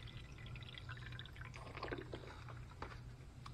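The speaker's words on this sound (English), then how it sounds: "Any type of little small plastic cup that you can pour a little bit in." Liquid trickles and drips into a small plastic cup, a faint, close splashing with a few brighter droplet plinks over a low background hum.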